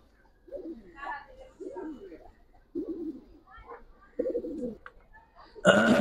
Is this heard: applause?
no